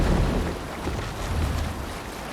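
Rowing a boat through water in the Viking game Assassin's Creed Valhalla, with a steady wash of water and wind noise, a soft continuous rush and no talk.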